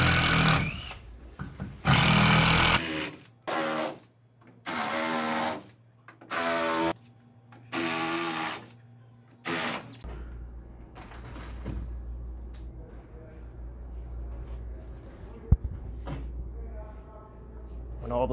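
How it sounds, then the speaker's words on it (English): A power tool backs screws out of crossbeams while uncrating a Mahr PLM600-E machine. It whirs in about eight short, separate bursts with brief pauses between them, then gives way to quiet handling noises. "Remove these screws for the cross beams."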